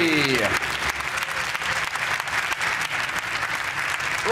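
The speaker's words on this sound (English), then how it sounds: "Please give a massive round of applause, Joe Bakai!" A crowd claps and cheers enthusiastically, the applause sustained and loud throughout.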